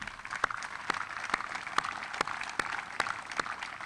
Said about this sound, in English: Please join me in giving them another round of applause.